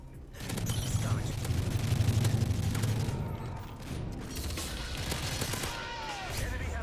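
Dense M4 rifle gunfire from Call of Duty: Modern Warfare 3 Ground War on Xbox 360, with continuous loud bursts and booming explosions in a busy battlefield mix throughout.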